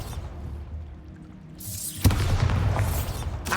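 A Bombarda blasting spell in Hogwarts Legacy builds with a rising whoosh, then bursts into a single sharp boom followed by a loud rumbling, crackling blast that lingers.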